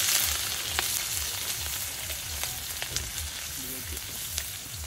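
Giant squid sautéing in a pan, with steady sizzling and frying noise, scattered sharp pops and spatters, and a faint repeated low stirring or scraping beneath.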